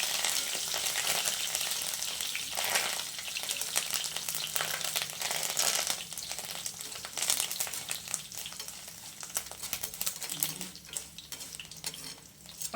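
Curry leaves fry in hot oil in a pan, giving a steady close crackling sizzle that runs throughout with faint stirring noises and no voices.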